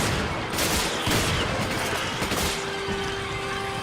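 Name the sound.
shotgun shots at boss in video game Resident Evil 5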